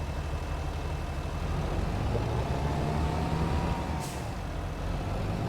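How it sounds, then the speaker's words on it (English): A small Deutz tractor idles and runs in Farming Simulator 25, a steady low engine drone with a brief hissing burst partway through. "Beautiful little tractor this is."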